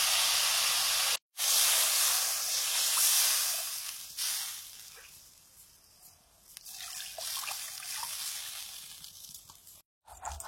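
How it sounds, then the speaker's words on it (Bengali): Water is poured into a cooking pot in a home kitchen, making a steady hissing, splashing rush that fades and swells before stopping, broken by brief gaps, with no voices. "এবারে পরিমাণ মতো জল দিয়ে দেবো।"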